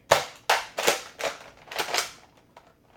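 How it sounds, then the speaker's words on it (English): A Nerf Modulus blaster fires foam darts, some of which are off-brand and jamming, in about seven sharp snapping shots at an uneven rhythm, loud and close, with no voices. "the Busby darts are not firing well, and are looks like jamming up the blaster"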